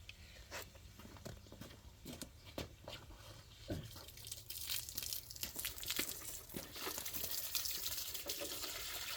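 Close-range water spray hissing and pattering against a muddy crawler chassis, continuous and fairly soft with uneven bursts and splashes as the jet moves around.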